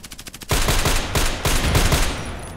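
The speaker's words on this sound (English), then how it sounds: "Cool, four shots, that was good." Gunfire from a DT SRS sniper rifle in the shooter game Contract Wars: loud, close blasts with sharp cracks and booming tails that run into one another, after a brief run of quick ticking.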